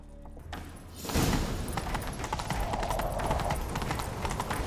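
A horse galloping in The Witcher 3, rapid rhythmic hoofbeats starting after a quiet second and continuing steadily, close and prominent.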